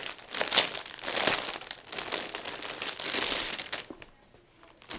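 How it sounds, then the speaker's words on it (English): Up close, plastic wrapping crinkles and rustles in bursts as dress shirts are pulled out of it, then the sound fades to quiet at the end. "let's pull these shirts out of the plastic"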